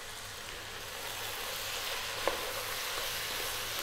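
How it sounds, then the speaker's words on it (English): Fish pieces and fresh parsley stirred in a hot pan over high heat give a steady, even sizzle, with one brief clink of a utensil partway through and no talking. "stay on this high heat, stirring pretty much all the time"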